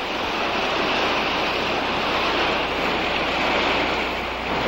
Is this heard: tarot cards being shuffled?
no